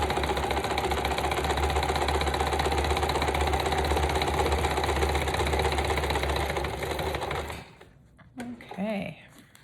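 A sewing machine zigzag-stitches lace onto a small handmade mini journal of paper scraps, running in a steady fast whir for several seconds before stopping, followed by brief handling sounds.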